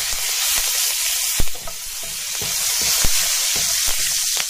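Urad dal and curry leaves sizzle steadily in hot oil, a loud close frying hiss broken by occasional sharp crackles and pops.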